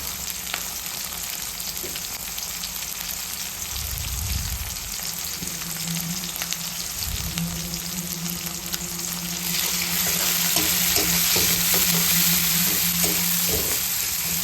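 Chopped garlic, onion and slit green chillies fry in soybean oil with a steady close crackling sizzle, punctuated by scraping stirs and a few clinks, the hiss growing fuller and louder toward the end.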